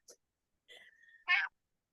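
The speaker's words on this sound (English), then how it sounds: "Did you hear the cat?" A cat meows a few times during a yoga class, one short faint call followed by a drawn-out mew and a louder final meow, heard alone in an otherwise quiet room.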